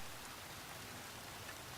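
Steady rain falls outdoors on a rainy day, a soft, even broadband hiss with faint scattered drop ticks and no talk.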